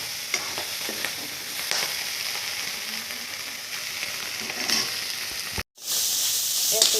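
Food cooking in a covered pan on a home kitchen stove, giving a continuous close sizzling and hissing with small pops and bubbling, broken by a brief silent pause near the end before the steady frying noise resumes.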